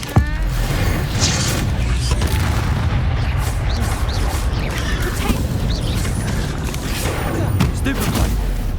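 Bombarda explosion spell cast in Hogwarts Legacy, a steady barrage of heavy booming blasts and rumbling impacts over dense game battle noise, with a sharp crack at the start and continuous low-end thunder throughout.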